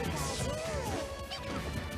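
A smash attack in Super Smash Bros. lands, Little Mac versus Pikachu, a sharp crash-like hit within dense game audio and music.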